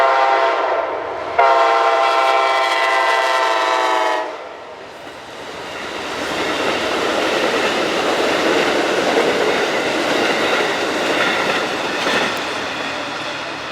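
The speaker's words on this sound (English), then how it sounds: "it was time for Amtrak 43, the Pennsylvanian coming from New York heading to Pittsburgh with a normal P42 leading" Amtrak 43, the Pennsylvanian, passes with a P42 locomotive leading, sounding a loud, sustained horn blast before the cars roll by with a steady, close rumble and clatter.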